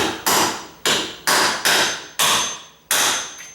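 A screwdriver hammered against a door hinge pin to drive it out, seven sharp metallic knocks struck close and loud at an uneven pace, each ringing briefly before the next.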